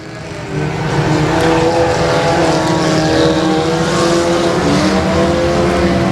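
Four-cylinder race cars lapping Timberline Speedway, a loud continuous engine roar that swells in after a moment and holds steady, no commentary over it.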